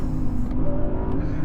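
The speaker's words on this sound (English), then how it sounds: "Throttle response is phenomenal though, watch this." An Audi R8 with a naturally aspirated engine, no turbos or superchargers, revs loud and close, a steady high-pitched engine roar with sharp, instant throttle response.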